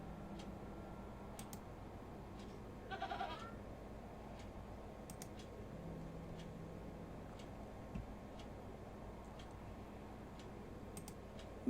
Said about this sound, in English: Pet the goat.